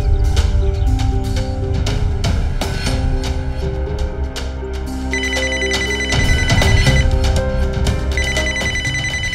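Indoors in a Hindi crime drama, a telephone rings in repeated trilling bursts, loud and continuous across the scene, with no talking over it.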